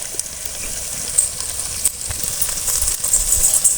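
Oil sizzling and frying spices in a pan for banana flower pickle, a steady close hiss with crackling spatter that swells slightly toward the end.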